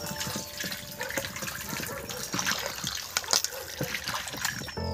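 Water runs and splashes as carrots are washed for gajar halwa, a steady rush of tap or sink water with small clatters, close by.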